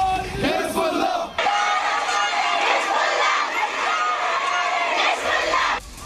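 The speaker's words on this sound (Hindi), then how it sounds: "हिजबुल्लाह के समर्थन में भीड़ ने नारे भी लगाए।" Dense crowd at a street protest shouting slogans in support of Hezbollah, loud and continuous chanting with rhythmic surges and brief dips throughout, voices massed close by.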